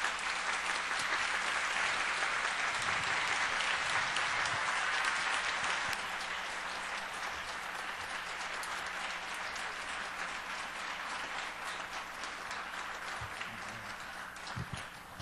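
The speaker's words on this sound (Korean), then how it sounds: "따뜻한 박수로 한번 환영하겠습니다." A church congregation applauds warmly as the pastor is welcomed to the pulpit for a spring revival service, with steady dense clapping that stays loud and continuous throughout, easing slightly midway.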